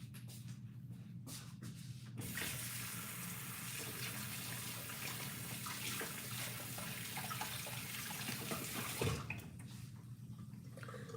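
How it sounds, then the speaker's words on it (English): Kitchen tap water gushing steadily over black-eyed peas being rinsed, a loud continuous splashing stream that starts after a couple of seconds of handling and runs through, briefly stopping near the end. "I'm just going to rinse it off, though."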